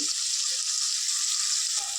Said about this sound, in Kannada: ಟೊಮೆಟೊ ಸಾಫ್ಟ್ ಆಗೋವರೆಗೂ ಚೆನ್ನಾಗಿ ಫ್ರೈ ಆಗಲಿ